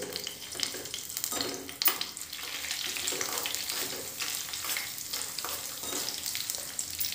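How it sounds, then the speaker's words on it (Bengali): Oil with hibiscus petals and curry leaves heating over a low gas flame, a close, dense crackling sizzle with intermittent stirring scrapes and sharper pops throughout, no voices. "আস্তে দিয়েই কিন্তু আমি তেলটা ফুটিয়ে নেব"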